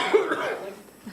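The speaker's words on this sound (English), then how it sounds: "And you're already coughing." A single short cough sounds close by in a county budget hearing room, followed by a brief, quieter throat sound.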